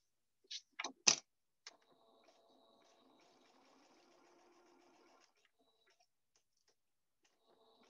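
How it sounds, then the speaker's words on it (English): A home sewing machine set to zigzag runs a short, quiet burst of stitching while sewing a zipper in place, preceded by a few sharp clicks and taps of handling. "Come back over to my sewing machine."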